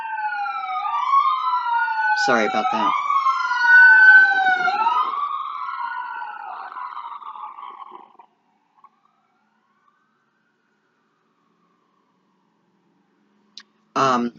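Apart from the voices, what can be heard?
emergency vehicle siren passing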